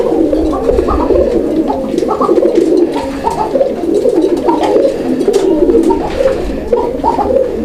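Several male pigeons coo steadily, a near and loud chorus of throaty rolling calls, with one circling over a clay pot as it calls and faint chirps mixed in.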